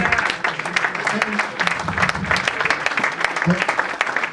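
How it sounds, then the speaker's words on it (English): Audience applause at a 1950–1980 cricketers' reunion award ceremony in Nairobi, a steady crowd clapping for about four seconds, close and fairly loud, with some voices murmuring underneath. "can you all give them a clap?"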